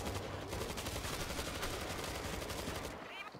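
Rapid gunfire from the World War Z video game plays continuously, dense cracking shots in quick succession at moderate level throughout the short stretch.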